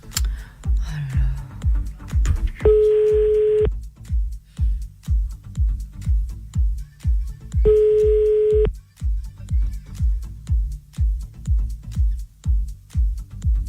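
Repeated telephone call tones sound during a French radio show, each a steady electronic beep lasting about a second and heard twice, over a rhythmic pulsing music bed.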